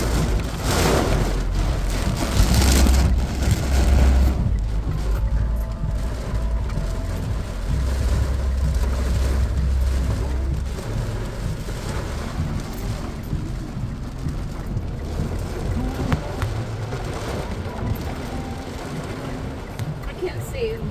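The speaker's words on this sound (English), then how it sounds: "it is raining really heavy" Heavy rain pours outdoors near trees and flooding puddles, a steady broadband wash of patter and hiss that runs through the whole stretch while voices talk nearby.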